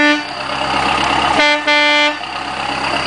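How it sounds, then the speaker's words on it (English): An aftermarket air horn, swapped in for the factory horn on a 2011 Kubota 5740 tractor, blasts loudly at close range. It gives one long blare, a brief gap, then a second blast that trails off, with no talking. "I took out the factory horn and I put in a air horn."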